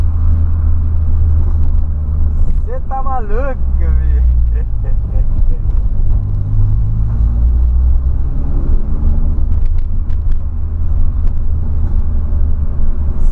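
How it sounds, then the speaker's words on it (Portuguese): Exhaust pops from a 2008 Volkswagen Polo Sedan while driving: scattered sharp crackles over a loud, continuous engine rumble, with people talking nearby. "Olha os pipocos"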